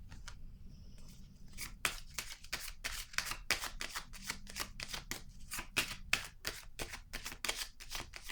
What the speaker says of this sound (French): Attendez, je vais piger une carte ici.